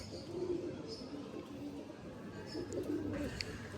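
Pigeons coo in soft, low, rolling phrases, repeating at intervals with a few faint chirps above, close by against a quiet room background.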